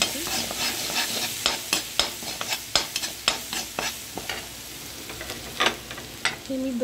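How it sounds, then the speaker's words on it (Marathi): Ginger-garlic paste frying in leftover hot oil in a pan, a steady close sizzle broken by repeated stirring scrapes and clinks of a spoon against the pan, no talking. "हे आलं लसूणची पेस्ट टाकते। छान अशी भाजून घ्यायची।"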